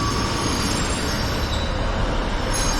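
A Class 156 train rumbles through Bolton station close by, with a dense, steady roar of wheels and rail noise and faint squealing, loud and continuous without talk.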